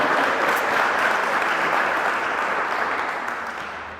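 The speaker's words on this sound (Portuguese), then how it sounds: "Você pode aplaudir a Jesus Cristo e dar glória a Ele" A church congregation claps together in a dense, sustained round of applause that holds strong, then gradually fades toward the end.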